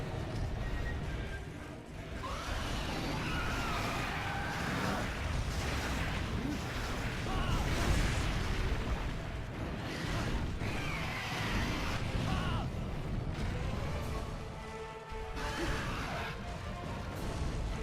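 A wide explosion hits during a fight against Crimson Fatalis in the iOS version of Monster Hunter Freedom Unite, with crashing, rumbling game effects that persist loudly throughout and no clear pause.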